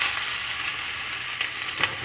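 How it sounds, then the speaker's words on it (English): Food sizzles steadily in a pan as it fries, layered on top of itself, with a constant bright hiss throughout and a few slightly louder spits near the end. "I'm just frying them on top of each other."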